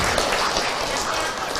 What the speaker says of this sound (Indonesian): tepuk tangan buat Ibu Suci